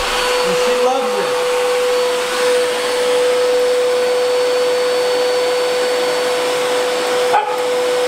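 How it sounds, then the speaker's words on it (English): A vacuum cleaner runs steadily nearby, sucking up dog fur shed by a mini husky, an Alaskan Klee Kai, with a loud, even whine and hum throughout and a brief bump partway through. "Living with the mini husky, you have to vacuum every day to get all the fur."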